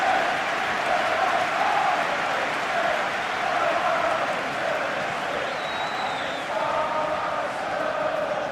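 Simulated stadium crowd in PES 2021 during an Arsenal versus Burnley match, a continuous roaring wash of cheering and applause that holds steady throughout with no commentary over it.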